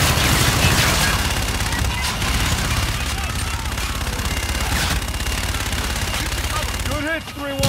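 Dense rapid gunfire and blasts from a called-in fire strike in a Call of Duty game, a continuous loud fusillade with radio-style voices talking over it.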